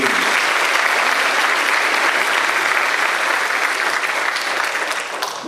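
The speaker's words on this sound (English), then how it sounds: "Another round of applause for all of our students." Audience applause at an evening school board meeting, a steady, dense clapping from a large crowd that fills the whole stretch, close and loud, tapering slightly near the end.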